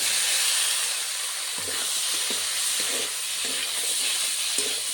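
Potato and pointed gourd fry in a pan with turmeric, giving a steady loud sizzle and hiss throughout, with a few soft stirring scrapes and no voices.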